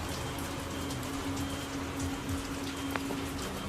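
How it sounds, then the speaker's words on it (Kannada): Steady rain falls at night outdoors near a village, a dense continuous patter of drops on surfaces with a faint low hum underneath and no talk. "ಮಳೆ ಕಮ್ಮಾಗಿದ್ರಿ ಜರ ನೋಡ್ರಿ"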